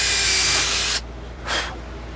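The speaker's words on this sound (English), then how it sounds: "we're going to drill through all the pieces of wood" A power drill bores screw holes through stacked pieces of wood for a cigar box guitar, a loud steady whir for about a second, then a pause and a shorter second burst.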